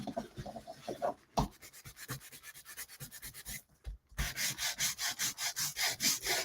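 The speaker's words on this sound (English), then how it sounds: "when you then rub it, you can rub off any extra ink on top of the embossing" A heat-embossed Christmas card is rubbed by hand to lift excess ink off the raised embossing, giving soft, close, rhythmic scrubbing strokes that pause briefly midway, then resume faster and a little louder.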